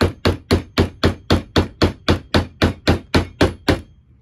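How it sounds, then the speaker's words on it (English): A hammer strikes a fighting robot arena panel in fifteen sharp, evenly spaced blows, loud and close, each a hard thwack with a quick decay, then silence. "Hammer."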